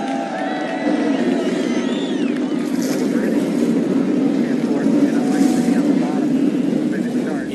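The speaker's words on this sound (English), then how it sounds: "Gentlemen, drivers, start your engine." Race truck engines start and rev together in NASCAR Racing 2003 at Oswego, a dense continuous roar over crowd noise, with some rising engine whines and a voice talking over it.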